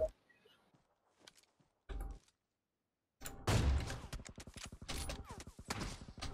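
Bursts of gunfire from PUBG Mobile, several sparse shots early and then a dense rapid volley of repeated cracks in the second half, loud and close.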